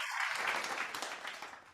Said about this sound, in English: we will give also another round of applause